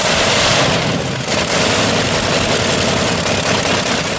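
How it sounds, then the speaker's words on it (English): A Wright R3350 18-cylinder, 54-liter radial aero engine, now run on the ground, roars loud and close after a cold start, holding a dense, continuous mechanical rumble throughout. "A brutal cold start that swells into a full-blown, thunderous mechanical symphony."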